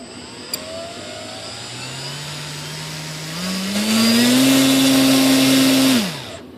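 Electric motor of a Volantex Phoenix Evolution RC sailplane whining steadily, then rising in pitch and loudness as the throttle climbs to a high, sustained rev before cutting off sharply near the end.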